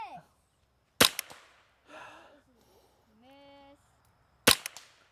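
A Ruger 10/22 rifle fires at a target with two sharp, crisp cracks a few seconds apart, each with a quick trailing click; people talk briefly between the shots.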